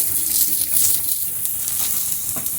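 Tomatoes lightly toasting in a pan for an onion-tomato sandwich give off a steady soft sizzle and hiss, close and continuous, with no voices over it.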